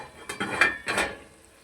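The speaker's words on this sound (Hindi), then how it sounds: "10 मिनट के बाद हम ढकना हटा रहे हैं इसका।" A lid lifted off a cooking pot of chicken with spinach and potatoes after simmering, giving a few close metallic clinks and scrapes over about a second, then quieter kitchen clatter.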